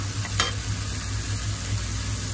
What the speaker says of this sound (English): So now I'm adding the paneer.